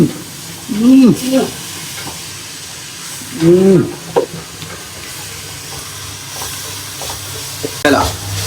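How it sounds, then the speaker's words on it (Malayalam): Chicken frying in a pan during weekend home cooking, with a steady close sizzle and hiss broken by a few scraping stirs; brief voices are heard. "ഓ ആവി വറക്കുന്ന ചിക്കൻ."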